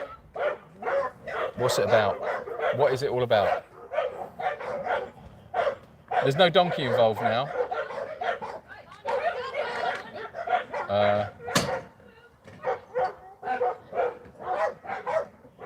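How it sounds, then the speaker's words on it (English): Dogs at an animal sanctuary on a ridge bark through a fence in repeated bursts of loud barks and yips, with dogs farther off answering, while someone talks between and over the barking. "Now they're barking through a fence."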